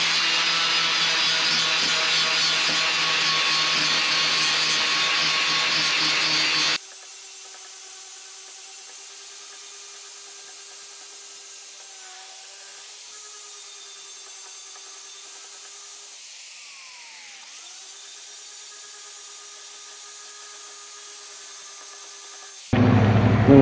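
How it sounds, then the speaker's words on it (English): Powered grinder with a grinding wheel working the metal of a snow plow: a loud, steady broadband whine for the first few seconds, then a quieter sustained motor hum with slight pitch wavers, ending in a short loud burst. "That's our powered grinder. Get a little bit more torque with it, more power."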